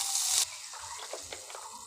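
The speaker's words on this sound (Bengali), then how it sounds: "এখন একটু জল দিয়ে" Water is poured into a pan on a gas stove for jaggery syrup. It gives a brief rushing splash and hiss for under half a second, then fades to quiet sizzling and faint ticks.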